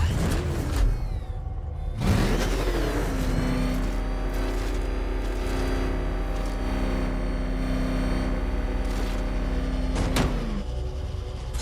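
Batman's Batmobile engine in Batman Arkham Knight, a loud, sustained low growl with steady revving tones held for several seconds, swelling in at the start and cutting off near the end.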